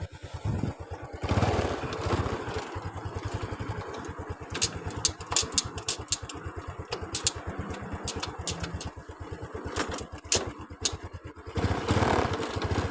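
A Honda Dream 125 motorcycle engine runs steadily at idle, a close, even mechanical putter with rapid regular firing pulses and occasional light ticks, no talking over it.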